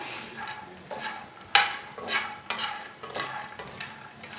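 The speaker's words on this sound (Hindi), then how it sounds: "फुल मखाने को 2 मिनट के लिए भून लेंगे।" Fox nuts (makhana) roasting in hot oil as a spoon stirs them over low heat for panjiri laddoos: soft sizzling with repeated scraping strokes and a sharper clink now and then, close and fairly quiet.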